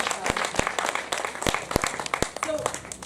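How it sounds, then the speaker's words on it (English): Applause for a panel at a street-crime community event, sharp scattered individual claps standing out over a background of voices and room noise. "Can we give the panel a round of applause?"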